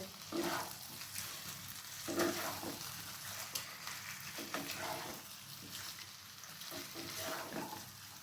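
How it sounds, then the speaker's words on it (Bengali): Marinated chicken pieces fry on a low gas flame, giving a soft, steady sizzle with gentle stirring swells and faint utensil scrapes throughout. "এরপর গ্যাসের ফ্লেমটাকে লো আঁচে রেখে ম্যারিনেট করে রাখা চিকেনের পিসগুলো দিয়ে দিচ্ছি।"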